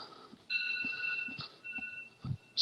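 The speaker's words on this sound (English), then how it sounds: "there's an alarm. It's going off right now." An alarm going off inside a house: a faint, high electronic ringing tone that sounds in steady bursts, with footsteps and handling noises around it and a sharp knock at the end.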